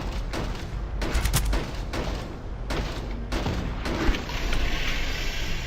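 Gunfire crackles in a space-combat video game, with dense bursts of sharp shots and heavy booms in quick succession, loud and continuous, a louder crack standing out near the end.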